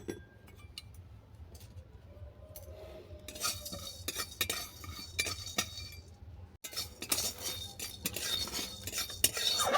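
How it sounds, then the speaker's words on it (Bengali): Whole spices such as cloves, cardamom, black pepper, five-spice and cinnamon bark are dry roasted in a kadai, with a utensil scraping and clinking against the metal over a steady stir. The sound is close and continuous and no one speaks. "এইগুলো সমস্ত একসঙ্গে ড্রাই রোস্ট করে নেব।"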